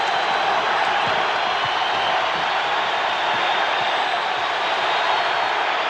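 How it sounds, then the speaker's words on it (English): Steady, dense roar of a basketball arena crowd cheering during a Pistons vs Trail Blazers game, continuous and loud throughout with no distinct peaks, a broad wash of many voices. "this crowd's in it now"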